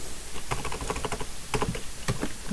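Code is typed on a computer keyboard, a quick uneven run of close keystroke clicks with short pauses, no talking.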